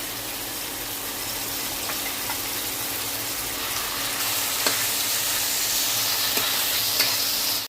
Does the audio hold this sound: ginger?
yes